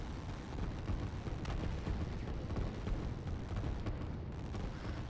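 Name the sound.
artillery fire in the video game Line War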